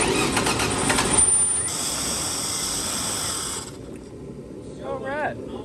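A Ford Ranger pickup engine cranks and catches, its broad noisy rumble and hiss fading partway through, while voices speak nearby.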